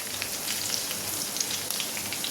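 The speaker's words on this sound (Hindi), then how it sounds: "भुनने के बाद इसमें जाएगी हरी मिर्च, प्याज डालेंगे।" Okra frying in a pan with green chili and onion for a masala bhindi dish, giving a steady close crackling sizzle that runs the whole time with no talk over it.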